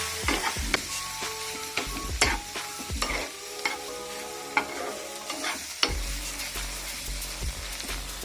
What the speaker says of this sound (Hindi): and I add the egg also and I have to mix very well together